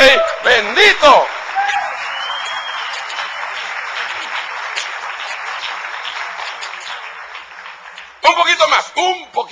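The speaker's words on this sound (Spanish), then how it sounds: "Dale un aplauso fuerte al Rey" A church congregation bursts into sustained loud applause mixed with cheers and whoops, steady clapping filling several seconds between shouted voices at the start and end.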